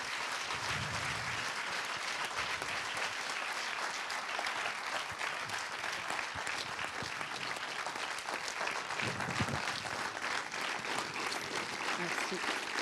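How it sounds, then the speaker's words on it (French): An audience applauds with sustained, even clapping throughout, and a few voices are mixed into the noise. "Mais en tout cas, Alexandra, je pense qu'on peut l'applaudir, la féliciter, la remercier."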